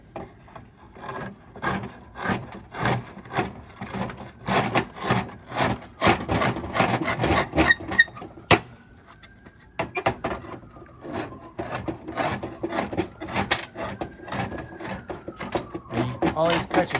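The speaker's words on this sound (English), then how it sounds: "This is a short slate cutter" A short slate cutter works through quarter-inch slate from the back, giving a rhythmic series of dry rasping, scraping strokes with a brief pause midway, fairly quiet, with occasional talk.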